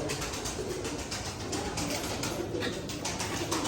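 Pigeons, a prized sea-bird breed, coo softly and repeatedly in a loft amid dense rustling and background noise, several birds overlapping throughout.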